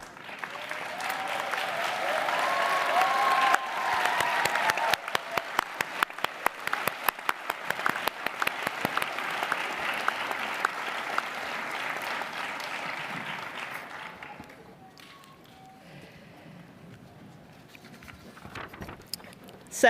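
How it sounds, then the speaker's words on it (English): Graduates at a university health and society graduation ceremony applaud, the clapping building and holding strong with distinct sharp claps, then fading away into quiet room murmur after about fourteen seconds. "I'd actually like all the graduates to stand and applaud their academics and"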